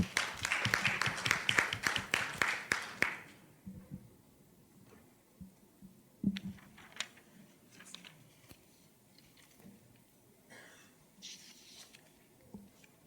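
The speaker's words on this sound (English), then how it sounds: "Round of applause for them as they come up." Audience clapping for contestants at a youth TVET competition forum fills the first few seconds densely, then thins to scattered, isolated claps and small knocks in a quieter room.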